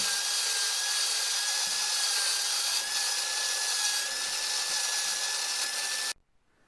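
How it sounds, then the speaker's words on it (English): A wire brush scours rust and residue off a vintage Brade's Criterion No.2 wood axe head, making a loud, steady, continuous abrasive grinding that stops abruptly near the end. "we're going to wire brush the rust and residuals on the axe head using a wire brush"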